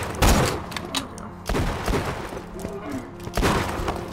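Gunfire in the co-op shooter game Borderlands 2: a quick run of sharp, loud shots and booming bursts comes in clusters, with voices talking over the action.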